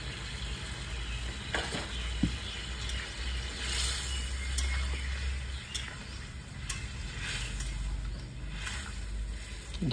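Mutton curry sizzling in a pan as water is steadily added, cooked in a rustic village style: a continuous close, moderately loud crackle and hiss with occasional stirring clinks, and no talking.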